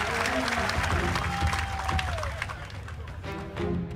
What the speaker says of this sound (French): gros applaudissement pour équipe